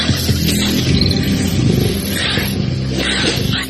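Three lions attack a mother honey badger, a loud, continuous roaring and snarling scuffle up close, growls rising and falling, with no talking.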